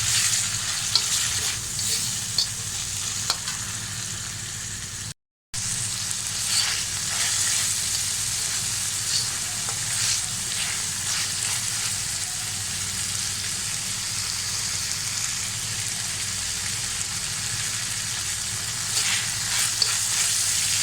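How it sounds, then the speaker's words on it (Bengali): Vermicelli chow mein with soy and oyster sauce hisses and sizzles in a hot pan while a utensil stirs and scrapes, a steady close crackle running continuously with one brief dropout and no voices. "সসটা দিয়ে দিয়েছি, এখন ভালোভাবে মিশিয়ে নেব"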